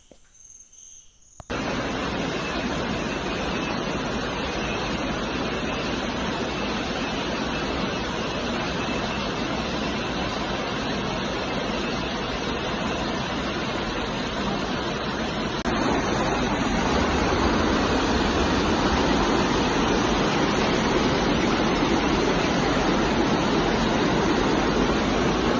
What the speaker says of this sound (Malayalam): ഈ കളകലം ഒഴുകുന്ന അരുവിയുടെ ഈ സൗണ്ടും ഈ ചീവീടിൻ്റെ ശബ്ദവും ഒരു രക്ഷയില്ല കേട്ടോ